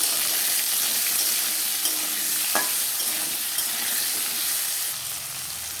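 Potatoes fry in hot oil with salt and turmeric in a pan, a loud continuous sizzle with a few scraping stirs of the spoon, close and steady without talking.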